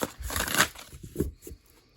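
Quick riffling and soft slapping of oracle cards being shuffled by hand, a few bursts close up, then quieter handling at the end.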